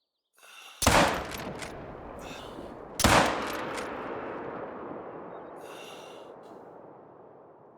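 Two loud rifle gunshots in theHunter: Call of the Wild, the first near the one-second mark and the second about two seconds later, each a sharp blast trailing off into a long rolling echo.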